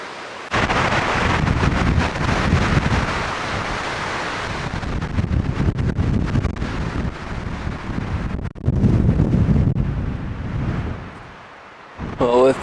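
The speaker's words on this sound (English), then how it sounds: "with this crazy amount of wind here in the crazy mountains" Strong wind roars across a snowy mountain camp in the Crazy Mountains during a splitboarding trip, a loud continuous buffeting rush that batters the microphone and surges in gusts for most of the stretch.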